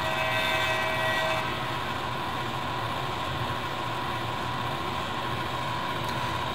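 Model locomotive sound decoder at notch 8, a steady loud diesel engine drone with dense broadband rumble and a high whine, continuous throughout with no breaks.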